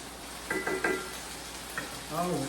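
Honey mandarin chicken and shrimp sizzling in a covered pan, a steady soft frying hiss with a few brief louder crackles and clinks.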